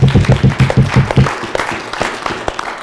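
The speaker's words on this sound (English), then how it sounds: "There should be more clapping." Audience applause at a housing market talk, opening with a burst of rhythmic, close clapping that fades into scattered claps and a few voices.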